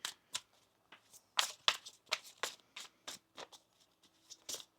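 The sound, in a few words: shuffling tarot cards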